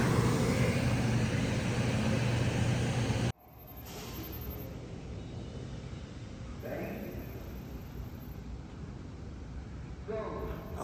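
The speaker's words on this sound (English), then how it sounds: "They have a blower going." A loud, steady broadband blower roar fills the first few seconds, then cuts out abruptly, leaving a quieter hum of room noise.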